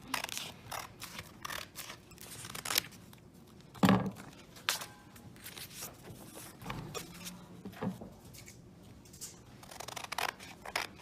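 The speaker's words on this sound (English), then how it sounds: "I'm actually going to take it and cut it in a couple different sections to make life easier for me." Scissors snip through a sheet of paper, cutting it into a few sections in a quiet indoor setting, a run of short crisp cuts with small pauses and paper rustles between them, no talking.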